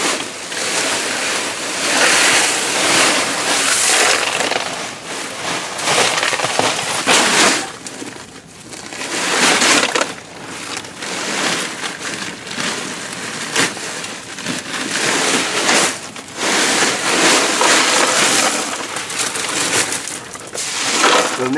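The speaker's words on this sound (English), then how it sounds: "we're bringing this gravel in through the vent, and we're going to just pour it over top of our perforated pipe" Gravel poured through a crawl space vent over perforated drain pipe, a loud continuous rushing hiss with surging waves of rattling stones, sustained throughout with brief lulls, close to the microphone.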